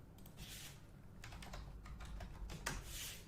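Quiet, close typing on a computer keyboard, with clusters of quick key clicks and short pauses between them, and no voice.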